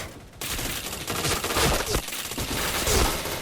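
Rapid automatic fire from an APC9 submachine gun in the Point Blank online shooter, a dense, loud, continuous burst of shots lasting several seconds with a near, punchy character.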